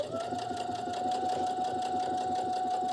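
A sewing machine stitches along the bottom of a wine carrier, a steady close, fast rhythmic hum and clatter that runs without pause, no talking.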